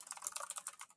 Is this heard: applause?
no